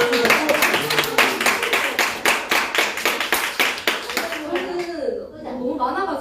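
Children clapping together in a church elementary-school Bible camp, loud rhythmic claps in a steady beat that loosen and fade into chatter and a voice toward the end.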